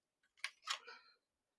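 Scissors cutting out a paper craft piece, two quick crisp snips followed by a short papery rustle, close but soft, alone in an otherwise quiet moment.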